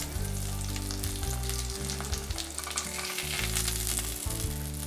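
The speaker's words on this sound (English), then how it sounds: "Toast the burger buns." Burger buns toasting in a pan with a strong, steady sizzle close by, a few faint scrapes or taps heard over it and no talking.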